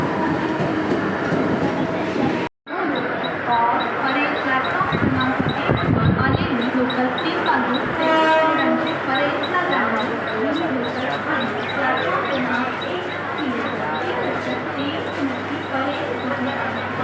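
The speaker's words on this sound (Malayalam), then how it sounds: "ട്രെയിനെത്തി ഇവിടെ പോകുന്നത് അസൻഗാവ് എന്ന് പറഞ്ഞൊരു സ്ഥലത്തേക്ക് പോകുന്ന ട്രെയിനാണ്." A busy Mumbai suburban local train bound for Asangaon pulls into a crowded station with a continuous rumble, rattling carriages and clanking wheels, under a constant murmur of talking passengers.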